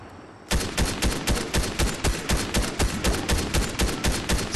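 Rapid, loud gunfire in the video game Fortnite: a steady stream of close, evenly spaced shots, roughly four per second, continuing without pause and with no talking.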